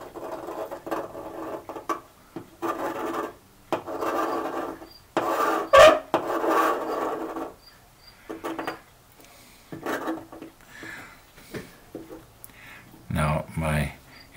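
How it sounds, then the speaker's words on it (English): A rounded blade scrapes along a seam on a model ship hull, giving dry, rasping strokes in short bursts with pauses between them, up close and fairly loud. "the idea is to sort of scrape along the seam with this rounded blade"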